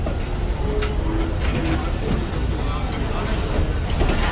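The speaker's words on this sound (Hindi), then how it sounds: "ठीक 9:30 बजे ट्रेन हमारी डिपार्ट कर रही है रहीम मियां खान रेलवे स्टेशन से" A Pakistan Express train pulls out of Rahim Yar Khan railway station, and a steady rumble and rattle of rolling carriages fills the whole stretch with soft clatter on top.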